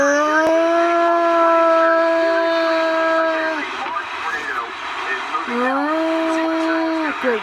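Tornado sirens wail outdoors with a large tornado on the ground, a loud sustained tone that fades and dips, then rises again in a second long sweep.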